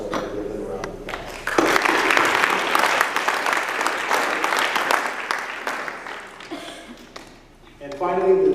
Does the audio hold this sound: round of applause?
yes